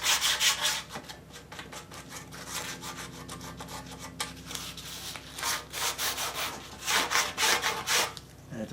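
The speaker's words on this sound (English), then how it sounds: "if you actually just rub the blade you actually get rid of them completely." A blade rubbed back and forth on sandpaper during a 1955 Farmall Cub tractor restoration, giving repeated rasping strokes in bursts, close and fairly loud, with no talk.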